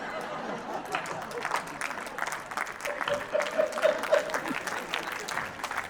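An audience at a Hindi comedy poetry gathering (hasya kavi sammelan) applauds in a dense patter of claps lasting several seconds, with faint chuckles and some murmuring mixed in.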